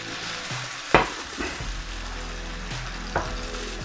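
Gnocchi and vegetables sizzle steadily in hot oil in a pan, with a couple of sharp clatters and scrapes as the pan is swirled and the food tossed, close and continuous.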